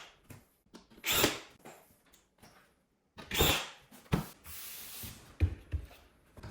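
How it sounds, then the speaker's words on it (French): A screwdriver drives screws into plasterboard lining the reveal around a Velux roof window, making short, loud whirring bursts separated by quiet gaps, close to the listener. "J'ai plus qu'à mettre mes vis 1 cm au-dessus du trait"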